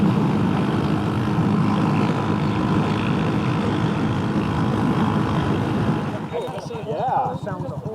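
A scooter with an aftermarket exhaust hums in a steady, loud drone while riding, then eases off near the end, with wind noise throughout.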